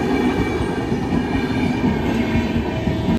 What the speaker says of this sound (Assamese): ট্ৰেইনো শেষ যোৱা